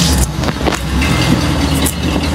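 A 1966 Ford Mustang convertible V8 catches on a cold start and runs at a steady, loud, close idle that rumbles throughout, with no voices.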